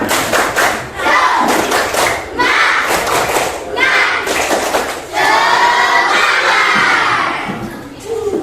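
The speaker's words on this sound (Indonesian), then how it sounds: "untuk mulai pelajaran kita tepuk semangat dulu" Schoolchildren in a combined-grade primary classroom do a rhythmic spirit clap, loud bursts of patterned clapping and thumps broken by short pauses, with the children shouting and chanting together.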